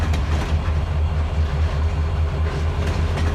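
A long freight train rolls along the track in the Trainz 2022 railroad simulator, giving a steady, loud clickety-clack of wheels over rail joints with a low engine rumble underneath throughout, and no voices.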